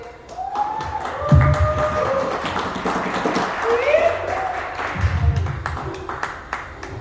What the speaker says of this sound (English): Please give her the warmest applause